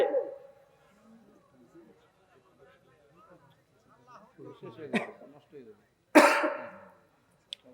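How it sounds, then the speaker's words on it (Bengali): A man with a cough coughs and clears his throat during a Bengali religious talk, with bursts that are loud and sudden, one strong harsh burst near the end following quieter speech-like sounds. "কথা বলতে বলতে কাশিটা উঠে আসছে"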